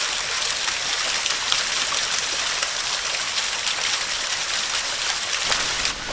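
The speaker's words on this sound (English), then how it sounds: "pleasant little waterfall" A small waterfall in a creek at Valley Forge, near an old dam site with rusted pipes, pours in a steady, close, full-bodied rush of falling water, continuous and alone.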